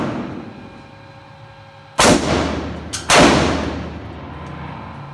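Two sharp, loud AR-15 rifle shots about a second apart, each ringing out into a decaying echo outdoors, with no talking.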